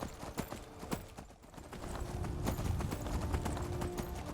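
A horse gallops at a sprint in the video game Skyrim, hooves drumming in a steady, fast clip-clop over a constant rushing background with no talk.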